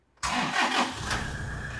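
A high-mileage Toyota Innova engine starts abruptly after a brief silence, then settles into a steady, close, moderately loud running drone.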